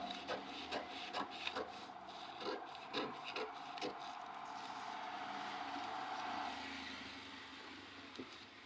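Scissors cut through fabric for a baby top pattern, giving a run of short crisp snips and rasping rubs in the first half, then a smoother sustained slicing drag, close and fairly quiet.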